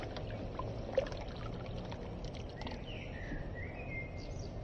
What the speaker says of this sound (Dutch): Dan gaan we nog even meer water eruit laten lopen.